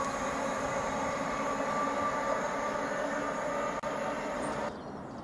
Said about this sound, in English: FLIRT 745002 has departed out platform 1, working the 1129 service to London Liverpool Street.